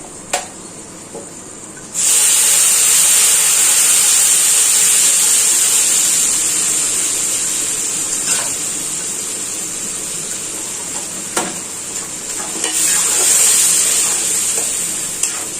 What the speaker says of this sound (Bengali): তারপরে আমি এই যে পেস্টটা করে রেখেছিলাম কাঁচা লঙ্কা আদা রসুন, সেই পেস্টটা আমি এর মধ্যে ঢেলে দিচ্ছি।